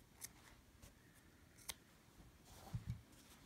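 Scissors snip through yarn while a knitted tassel is being made, two or three sharp, quiet clicks spaced apart, close up against faint room noise, with no talking.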